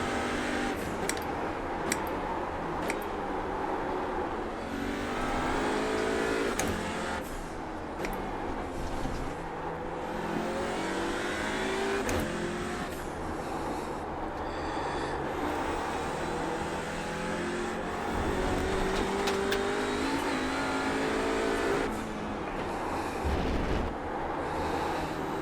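Audi RS 3 LMS race car engine under throttle in iRacing at Mid-Ohio, a steady loud drone with rising and falling revs through gear changes, continuous across the lap segment with no talk.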